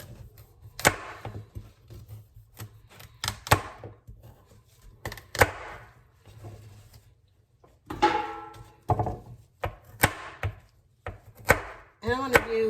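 A knife chops small carrots roughly on a cutting board, a run of sharp, close, irregular thunks with short pauses between bursts, no voices.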